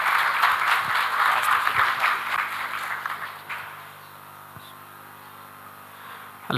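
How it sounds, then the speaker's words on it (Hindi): A crowd welcoming a guest on stage at an Eid e Ghadeer celebration in Nepal with dense applause that swells, then tapers off and fades into near quiet. "तालियों से स्वागत करें।"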